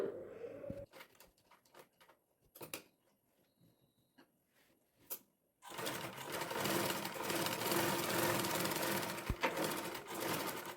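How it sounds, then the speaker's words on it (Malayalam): A sewing machine stitches along a lining piece for a boat-neck or square-neck garment: sparse clicks and handling first, then a loud, steady whirring run of stitching for the last half. "ലൈനിങ് പീസിൻ്റെ മുകളിലൂടെ വേണം സ്റ്റിച്ച് ചെയ്ത് കൊടുക്കാൻ"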